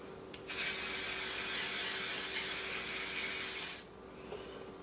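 An oil sheen hair spray is sprayed onto a lace front wig in one continuous hissing burst of about three seconds, close and fairly loud, with brief clicks before and after.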